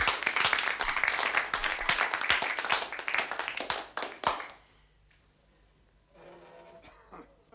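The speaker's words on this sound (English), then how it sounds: "a round of applause for the vicar" Audience applause for the vicar at a village gathering, a dense burst of clapping for about four seconds that thins to a few scattered claps and then fades to quiet room noise.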